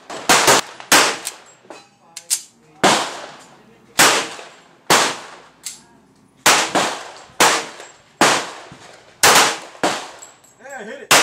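A Colt 1911 pistol fires about a dozen loud, sharp shots outdoors at uneven intervals, each a hard crack with a short ringing tail, some spaced a second apart and others in quick pairs.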